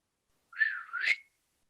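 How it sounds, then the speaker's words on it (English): One short whistled phrase, a single rising-and-falling tone lasting under a second, clear and alone in silence. "What are you whistling for?"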